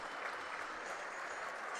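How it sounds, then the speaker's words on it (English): Crowd at a Trinity versus Dewsbury Rams rugby league match gives a minute's applause in memory of two fans, a continuous, even wash of clapping from a large stadium audience, fairly distant and soft. "If you're able, please stand for a minute's applause for Mary and Dan."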